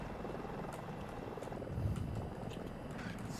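A helicopter in the Battlefield 2042 video game, a Super Hind, produces a continuous loud rotor and engine rumble with a steady rhythmic chop, with no voices over it.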